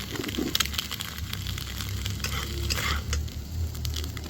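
An egg fries in a hot pan for chowmein, giving a steady close sizzle with crackling spatter and occasional scraping as it is stirred.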